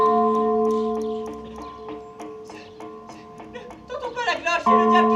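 A castle bell tolls repeatedly at a steady pace, its ringing tones sustained, while an excited voice speaks over the later strokes.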